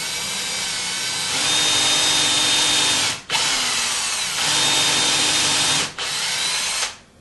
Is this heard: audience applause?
no